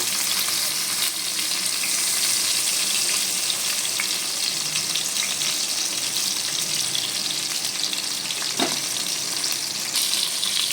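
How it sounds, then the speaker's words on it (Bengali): Brinjal (eggplant) pieces frying in oil in a pan, a loud, steady crackling sizzle with light stirring and a brief clink near the end, no talking. "সব বেগুনগুলোকে আমি দিয়ে দিলাম এটা আমি ভালো করে এবার ভেজে নেব"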